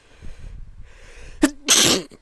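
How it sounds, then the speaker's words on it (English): A single loud sneeze: a sharp intake and brief burst, then the explosive release, preceded by quiet murmuring in the room. "I'm going to sneeze."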